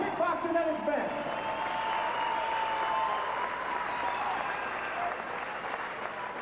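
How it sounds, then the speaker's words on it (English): An audience applauds Muay Thai kickboxing fighters at a Las Vegas event, with dense, sustained clapping that goes on steadily and fades slightly toward the end. "let's give both of these fighters a big round of applause"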